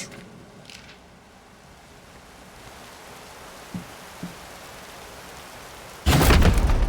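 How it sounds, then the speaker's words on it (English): Steady rain hisses from a thunderstorm in the 2023 horror game Layers of Fear, with a couple of faint knocks in between, before a loud, close burst of thunder crashes in at the end. "This storm has been going on for weeks."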